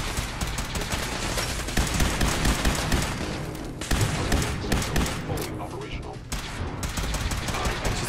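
Gunfire in the Fallout 4 video game, with dense, continuous rattling shots and thumps at close range, heard over the whole clip.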